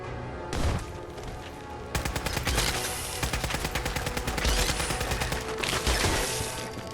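Automated turrets in the Fallout 4 video game fire on enemies in a loud, dense burst of rapid gunfire that rattles almost continuously for several seconds, with no talk.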